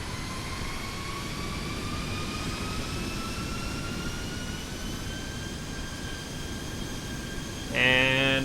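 Boeing 737 jet engines spool up in the X-Plane 11 flight simulator, a steady whine slowly rising in pitch over a constant rush, with a short electronic tone sounding near the end.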